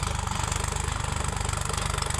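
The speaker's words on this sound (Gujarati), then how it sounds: "અને ટ્રેક્ટર પણ જો આ બધા હાલે છે." A tractor engine runs in a field with a steady, close, loud rhythmic chug, like a diesel idling, and no voices.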